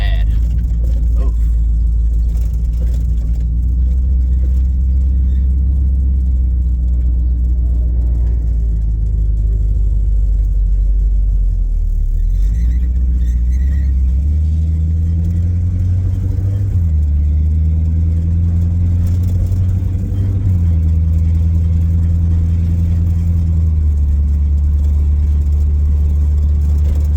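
A Plymouth Cuda's engine rumbles deep and loud while driving from a stop, its low tone wavering and lurching as it bogs down and chugs, with people talking over it.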